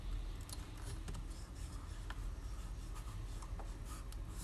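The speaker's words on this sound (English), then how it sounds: "Try and write it." Pen or pencil scratches softly across paper in short, irregular strokes, quiet and close in an otherwise still room.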